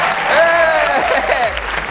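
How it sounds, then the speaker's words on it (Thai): Dense audience applause at a Thai innovation awards show, a continuous burst of clapping with crowd noise and overlapping voices throughout. "แม้กระทั่งการปรบมือก็เป็นไอเดียเหมือนกันนะฮะ"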